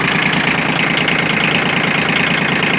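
A Yanmar F155 mini tractor engine idles steadily and close, a continuous low knocking chug with even rhythm and no pauses.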